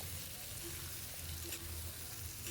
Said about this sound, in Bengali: এবার ঝিঙেগুলোকে ভেজে নেব